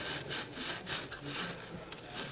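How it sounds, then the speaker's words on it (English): Scotch-Brite pad scrubbing the tops of engine valve guides on a Blazer engine, a loud, fast back-and-forth abrasive rasping in quick repeated strokes, close up with no talking. "Scotch-Brite the top part of the guide so you can put the seal on it"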